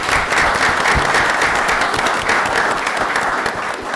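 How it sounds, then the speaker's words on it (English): Loud, continuous round of applause from the audience at a city council meeting in Orange, Texas, honoring city agency staff, many hands clapping densely and steadily throughout with a slight fade near the end. "Let's give them a big round of applause."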